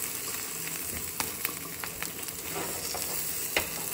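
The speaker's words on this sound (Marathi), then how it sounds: "सो पाव गरम करून घेतले" Pav bread rolls heating with butter in a pan for street-style pav bhaji, giving a steady soft sizzle with a few faint taps and scrapes, with no talking.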